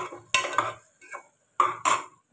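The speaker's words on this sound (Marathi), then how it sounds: "तर आता ह्या कांद्यामध्येच आपण हा खडा मसाला पण टाकून घेणार आहे। छान असं परतून घ्यायचं" Onions and whole spices being sautéed in a pan for mutton: two pairs of sharp scraping stirs and clatters against the pan, separated by quieter moments with faint sizzling.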